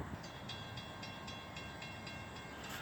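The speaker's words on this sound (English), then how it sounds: "Amtrak coming down from Portland going to Boston" An Amtrak Downeaster led by heritage engine no. 406 approaches through Plaistow, New Hampshire, on the Portland-to-Boston run, heard as a faint, distant rumble with a steady series of rhythmic clacks.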